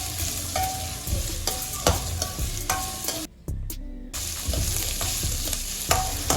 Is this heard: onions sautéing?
yes